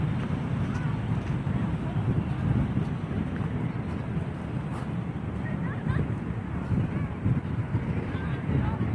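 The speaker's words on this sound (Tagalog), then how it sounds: "malakas ang hangin dito" Strong wind at Dolomite Beach buffets the microphone in a constant low roar with gusty swells, loud and close, with no voices.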